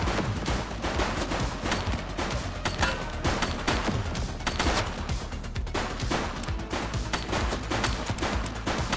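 Rapid gunshots crack continuously in The Precinct police video game, dense bursts of gunfire overlapping with steady loud intensity and no voices.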